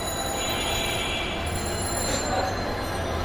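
A Dhaka metro rail train runs past with a steady, loud rolling roar and thin high wheel squeals drawn out over the rails, continuous from start to finish.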